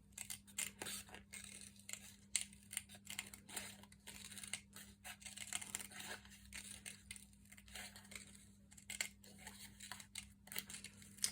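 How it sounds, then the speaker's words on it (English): Scissors snip steadily around paper flower petals, giving a quiet, close series of rapid crisp cuts and paper rustles over faint room hum. "I'm going to cut around the petals"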